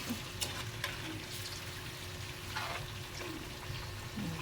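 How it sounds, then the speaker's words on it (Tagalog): Food with sugar cooks in a pan and is stirred to keep it from burning: a soft, continuous sizzle with occasional scraping stirs, fairly quiet and close. "haluin natin para hindi daw masunog"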